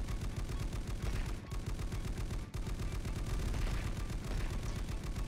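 Dense, continuous rapid gunfire from turrets in the tower defense game Polycore Defense, loud and unbroken rattling shots throughout, with only brief dips in the barrage.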